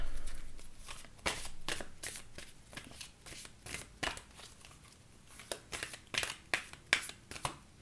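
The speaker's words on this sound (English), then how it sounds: "let's pull an oracle card" An oracle card deck is shuffled at close range with quick papery riffles and taps, followed by scattered slides and flicks as a card is drawn, soft and without speech.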